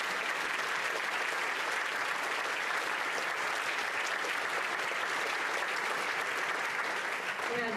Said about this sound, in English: A big round of applause for these students.